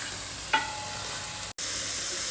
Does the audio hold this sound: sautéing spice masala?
yes